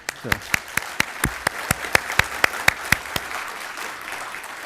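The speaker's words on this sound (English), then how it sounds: "And that won't be the first round of applause in today's sessions" Applause at an archaeology conference tribute session, heard as evenly spaced, distinct claps in a steady rhythm, fairly close and clear, tapering off after about three seconds.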